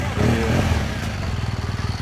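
A police Yamaha MT-09 Tracer motorcycle on its stock exhaust runs with a deep, heavy engine note that settles into a steady pulsing throb near the end, with people talking over it.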